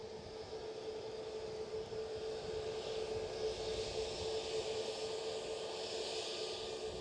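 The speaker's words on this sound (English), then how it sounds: "So Delta, your next landing, Smoky Joe." A Delta airliner on approach to Edinburgh Airport gives a steady, fairly distant jet engine roar with a low rumble and a sustained whine, holding level throughout with no voices.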